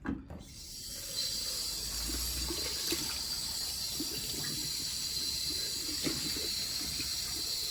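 Cold tap water runs steadily to rinse a plastic piece, a close, even hiss and splatter with small sloshing bumps, continuing without pause and no speech.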